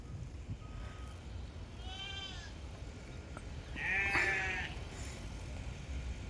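Sheep bleat in a sunny desert pen holding about a thousand animals, a few wavering cries at moderate distance, with one louder, closer bleat standing out over steady outdoor background noise.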